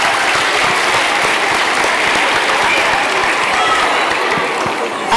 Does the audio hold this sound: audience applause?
yes